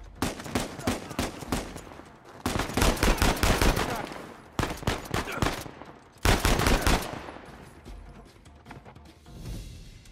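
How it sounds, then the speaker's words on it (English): Gunfire in the video game Uncharted 4 as a sniper fires on the player: loud repeated shot bursts and volleys in several dense waves, with rapid crackling reports and sharp onsets, up close and without talk. "Shit, Sam, sniper!"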